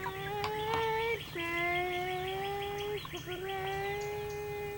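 Sustained high, piping chirps from baby chicks on a farm, several overlapping calls close by, continuous with brief breaks over a soft background hum.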